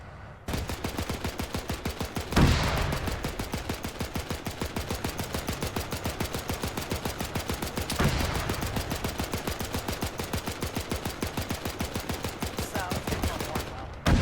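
Rapid sustained machine-gun fire aimed at a tank in Arma 3 rattles on without pause for most of the stretch, loud and close, with a couple of heavier impacts punctuating the stream.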